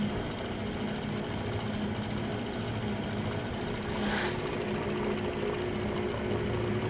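Gearbox of a vintage Van Norman 204 brake lathe running, a steady mechanical whir and hum with a dense rattling texture and a brief brighter whine midway, moderately loud and continuous with no talking.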